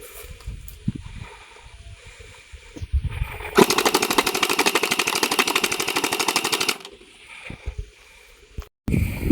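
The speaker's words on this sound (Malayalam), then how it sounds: "ഇവിടെ നമുക്ക് ഷൂട്ട് ചെയ്ത് നോക്കാം." A toy BB gun with a drum magazine fires a rapid, steady burst of shots for about three seconds outdoors, loud and close, with quieter handling noises before and after.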